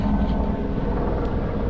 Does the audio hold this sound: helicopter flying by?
yes